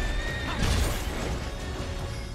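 A horse neighs loudly in the action role-playing video game Stranger of Paradise, a short, shrill whinny over a dense backdrop of combat noise and crashing effects.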